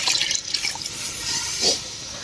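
Chicken cooking water pours steadily into a pot of rice for biryani, a bright splashing hiss that swells briefly near the end, with no voices.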